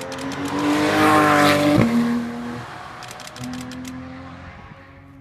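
A lava orange 2016 Porsche GT3 RS race car sweeps past at the Nürburgring, its engine note rising loud and close, then dropping in pitch as it passes, before a second, fainter engine pass is heard further away.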